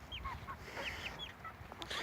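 Small Pekin bantam chickens, a rooster and a hen, give brief scattered clucks and squeaky calls, faint and somewhat distant over a low background hum.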